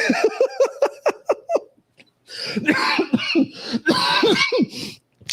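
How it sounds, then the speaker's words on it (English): A run of short, sharp coughs in quick succession, then a longer burst of laughing mixed with coughing, close and fairly loud. "See, when I laugh, I cough"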